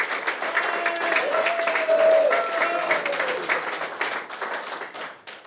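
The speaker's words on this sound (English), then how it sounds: "So another big round of applause." A live audience claps and applauds steadily for a charity fundraising draw winner of a retro VW camper van, a dense wash of hand claps that swells and then tapers off, with a voice briefly heard beneath.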